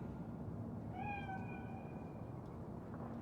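A cat meows once in the video game Cyberpunk 2077, a single drawn-out call at moderate distance over a steady low ambient hum, with no talking.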